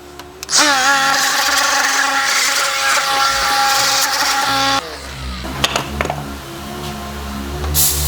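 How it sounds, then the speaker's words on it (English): An aluminum disc on a power tool cleaning up an engine's injector area spins up to a loud, steady whirring grind for about four seconds, then cuts off, leaving scattered clanks and light handling noises. "I'm just taking my aluminum disc and I'm just kind of cleaning up the area here"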